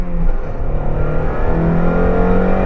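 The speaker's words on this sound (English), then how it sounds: "We are foot on the floor in first gear" A Mazda Miata pulls from a stop with the throttle floored in first gear onto a highway, its engine note loud, close and rising steadily over the whole stretch.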